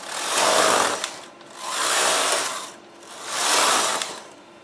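Knitting machine main carriage and ribber carriage sliding across the bed to knit rows of burgundy mohair, three long swishing, clattering passes in a steady back-and-forth rhythm, close and loud with no talk.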